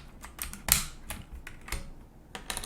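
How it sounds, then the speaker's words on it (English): Clicky keystrokes on a PICTEK mechanical keyboard with blue Jixian switches, a handful of crisp, close taps at an uneven pace, one sharper and louder than the rest, with no talking. "Yeah, so it's a blue switch keyboard."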